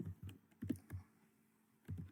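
Computer keyboard typing a file name for a Python turtle graphics program, a quick run of soft key clicks, a pause, then a few more taps, quiet and close.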